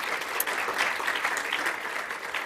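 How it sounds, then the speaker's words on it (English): Conference attendees give a steady round of applause at a spring Alzheimer's research center meeting session. The clapping is moderate, dense and continuous. "So just round of applause for all of you guys."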